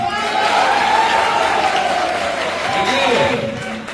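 An audience at a Hindi event claps on an anchor's request, a steady wash of many hands with a voice speaking over it and a tonal murmur running underneath.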